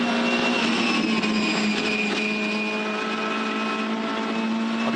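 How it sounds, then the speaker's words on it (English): Volvo V8 Supercar with a flat-plane crank engine at the Adelaide street circuit, a loud, close, sustained high-pitched engine wail holding steady throughout. "Let's listen to the Volvo through eight."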